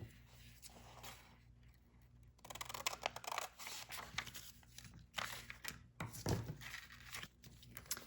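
Paper being cut with scissors while preparing vintage book journal signatures, a series of short, quiet snipping and crisp rustling sounds, close but faint.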